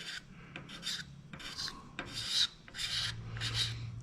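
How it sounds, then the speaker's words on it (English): A surfboard being wet sanded by hand on its curved rail, a rhythmic series of close rasping strokes, each about a second long, with short pauses between them and no talking. "You're sanding that out and you're sanding out here too."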